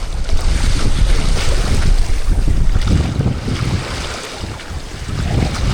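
Gusting wind sweeps over the water while parawing on a board, a loud steady rushing and buffeting with wave noise that eases slightly toward the end.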